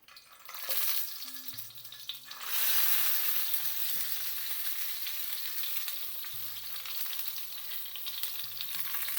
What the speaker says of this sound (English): now you're going to put all these tomatoes in there